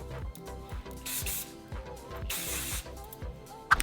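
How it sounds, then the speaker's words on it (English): Hairspray is misted onto short hair in a few quick pressurized bursts of hiss, two of them long and prominent, over quieter rhythmic clicking and rustling nearby. "And I'm gonna spray with a hairspray."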